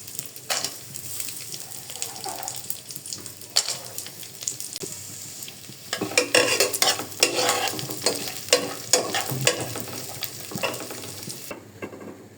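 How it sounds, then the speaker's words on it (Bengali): Nuts fry in ghee in a pot on a stove while being stirred, a steady sizzle with frequent scraping, clattering stirring strokes that grow busier partway through, close and moderately loud with no talking. "এই যে বাদামটা বাদামি করে ভেজে নিচ্ছি।"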